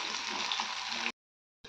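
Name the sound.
bitter gourd frying in a pan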